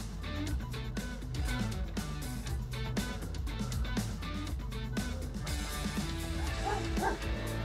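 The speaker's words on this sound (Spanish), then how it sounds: "Ladran los perros" Several dogs bark, yip and whimper in quick repeated bursts, loud and close, over a dense, continuous musical backdrop with little speech.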